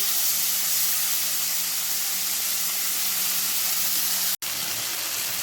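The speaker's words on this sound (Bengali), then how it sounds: "খুব ভালোভাবে মাছগুলোকে ভেজে নেব" Prawns frying in mustard oil in a pan, a continuous loud, close sizzling hiss with a low steady hum under it and a momentary break near the end.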